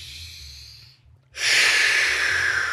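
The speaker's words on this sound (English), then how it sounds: "Breathing in, breathing out." Slow breathing during a breathing exercise: a soft exhale fades into a brief pause, then a loud, steady, airy breath follows, close to the microphone.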